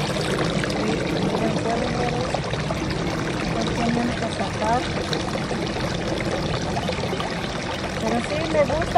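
Running water trickles and pours steadily at close range, a continuous splashing flow, with a person talking over it at times.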